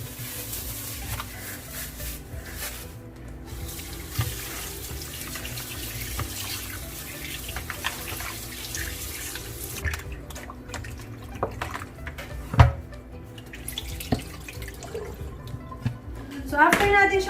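Tap water runs steadily into a kitchen sink while raw grocery meat is washed under it, with splashing and clatter rising toward the end and faint voices underneath.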